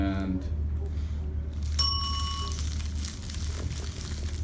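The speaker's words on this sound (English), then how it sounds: "I'll do it on the bell and just be the fire that'll be starting." A small bell rung as a sound effect during a radio theatre workshop gives one bright ding that rings briefly and fades, over a steady low hum with people talking around it.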